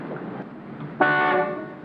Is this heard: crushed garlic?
no